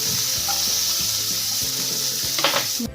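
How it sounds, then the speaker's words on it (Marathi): Grated fresh coconut heats in a kadhai for wheat kheer with a steady close sizzle and occasional scraping stirs, ending with a brief louder clatter. "गरम करून घ्यायचं आहे खोबरं काढून घ्यायचं आहे"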